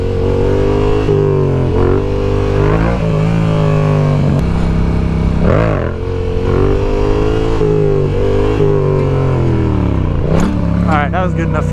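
Yamaha R7 motorcycle engine revving hard during wheelie stunts on a street ride, a loud, close, continuous drone whose pitch repeatedly climbs and drops as the throttle is worked.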